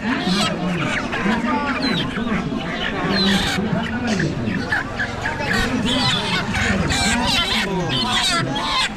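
Dense clucking from many chickens, close and continuous, at a rural village poultry market, with people talking over the birds throughout.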